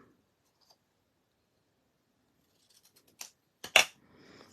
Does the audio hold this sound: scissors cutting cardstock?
yes